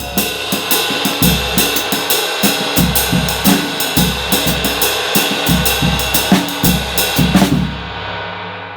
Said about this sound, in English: example 2 is going to be just the abanico into a groove